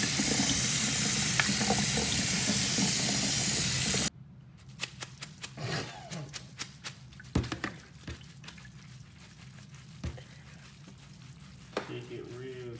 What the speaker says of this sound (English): Now we're covering it with ice water to stop the noodles from cooking.